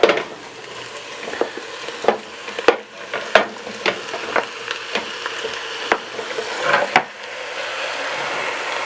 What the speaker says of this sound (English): So I'm going to put my pork on in there.